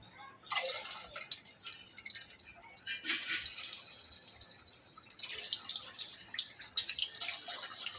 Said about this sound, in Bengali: দেখুন তেল গরম হয়ে গেছে এবারে ভেজে নেবে এগুলোকে